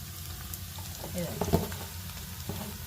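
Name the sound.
onion, green chilli and ginger garlic paste frying in pan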